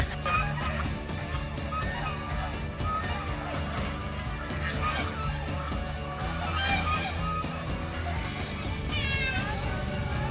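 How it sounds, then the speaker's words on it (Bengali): Swans honk from a small pond, their nasal calls repeating over a steady, dense background of noise at moderate distance, faint against the surrounding din. "রাজহাঁস আওয়াজ পাওয়া যাচ্ছে রাজহাঁসের"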